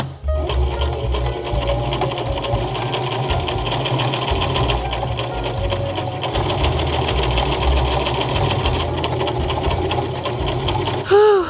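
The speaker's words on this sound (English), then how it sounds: "I'm just going to do a straight stitch as straight as I can. Just sew down this double rolled hem that I did." Sewing machine running a straight stitch down a double rolled hem on a shirt, a continuous close hum and rapid needle chatter lasting the whole stretch with only slight changes in speed.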